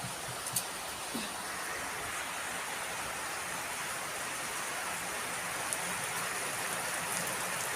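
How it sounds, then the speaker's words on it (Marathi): Steady rain falls continuously as an even, close hiss with no pauses, and there is no clear talking. "पाऊस लागलाय छान छानपैकी"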